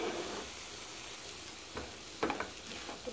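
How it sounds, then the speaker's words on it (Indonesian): Cucumber, egg and green chillies fry with a steady sizzle in a pan while a utensil stirs them, with a few short scraping knocks near the end and no talking. "Terus diaduk-aduk ya."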